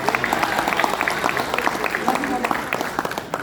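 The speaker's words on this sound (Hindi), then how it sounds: "एक बार तालियां बजाकर इजाजत दीजिए" Clapping from the audience at a mushaira poetry gathering, moderate and continuous, with voices murmuring over the hands.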